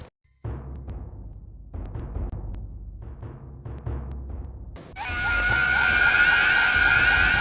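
A sudden loud, harsh scream effect bursts in after a flash of the mask salesman's face in a haunted Majora's Mask hack, following dark, sparse musical hits and silence, then sustaining at high intensity.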